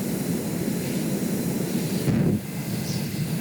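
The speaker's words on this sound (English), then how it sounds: "The aircraft then pitched up as fast as it could." Aircraft engine in the video game Stormworks roaring steadily as the plane pitches up hard, a continuous loud drone with a brief surge and shift in tone partway through, no voices.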